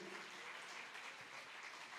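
A church congregation applauds during a Sunday school service, a faint, steady wash of many hands clapping heard from a distance.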